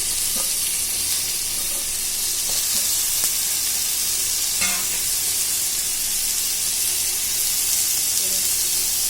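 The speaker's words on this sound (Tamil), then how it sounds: "இப்போ சேர்த்து வதக்கணும்" A continuous, loud frying hiss fills the air as finely chopped drumstick (moringa pods) sautés in a pan, with a few faint clinks of stirring.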